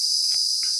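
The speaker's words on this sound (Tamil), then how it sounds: "மழை வண்டு சத்தத்தை பாருங்கள், நீங்களும் கேளுங்க." A rain beetle in a Tamil village keeps up a continuous shrill, high buzzing drone at steady loudness, with a few faint low knocks beneath it.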